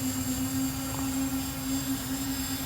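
Drone motors run steadily with a continuous propeller whir and a strong tonal hum, loud and close, holding an even level throughout.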